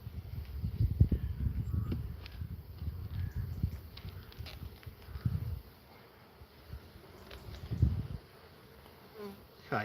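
Honey bees buzz loudly and steadily in close range while a beehive is opened for inspection, the swarming drone swelling and fading over several seconds with a few soft knocks of handling.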